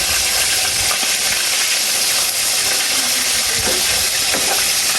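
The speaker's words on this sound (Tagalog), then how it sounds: "Si Ate Huya po ay nagpiprito ng pork chop." Pork chop frying in a pan, a steady close hiss and crackle of sizzling oil with scattered pops, running continuously without voices.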